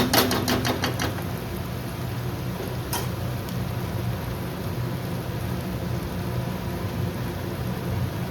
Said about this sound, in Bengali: তো এই সময় আমি এবার এর মধ্যে মাংসটা অ্যাড করে দিচ্ছি।